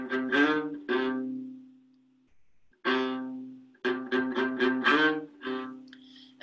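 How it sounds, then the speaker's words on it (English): The Vodnik motive from the overture to Dvořák's opera Rusalka is played as a short melodic phrase: a held tone, a pause, then a quicker run of separate notes at moderate loudness. "So the overture begins with this Vodnik motive."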